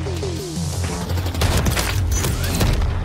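A full-auto shotgun firing in a video game, a rapid string of heavy booming blasts, loud and close, with rattling impacts layered over a low rumble.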